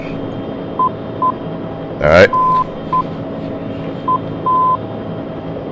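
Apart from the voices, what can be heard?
navigation radio beacon Morse code identifier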